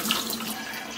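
Tap water runs steadily while soaked almonds are rinsed in clean water in a kitchen, a close, continuous splashing hiss with no voices.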